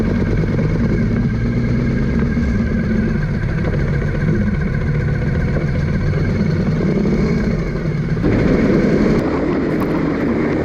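Motorcycle engine running steadily while riding in the UK, droning loud and close throughout, then changing pitch near the end as the bike slows and pulls in at a small roadside cafe with other bikes parked.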